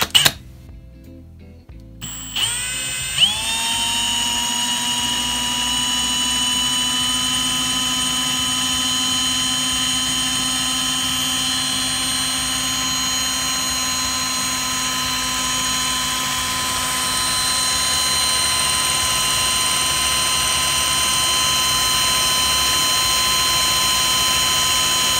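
A small drill bores holes through a fiberglass flight controller board held against a table, its steady high-pitched whine running continuously and loud after a brief start-up.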